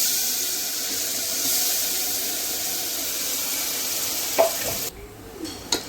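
Vegetables tipped into a hot pan of oil with cumin, hing and turmeric for palak rice, a continuous bright hiss and sizzle that cuts off sharply near the end, followed by a few clinks.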